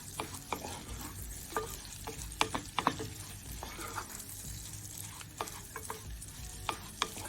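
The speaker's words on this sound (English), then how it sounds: "Now the vermicelli will cook very fast, so you need to constantly stir it." Vermicelli fries in butter while being stirred constantly, a soft, continuous sizzle broken by frequent light spoon scrapes and taps, close but fairly quiet.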